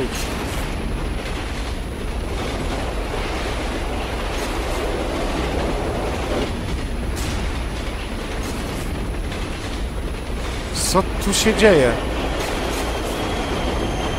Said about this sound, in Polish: To pociąg chyba za szybko jedzie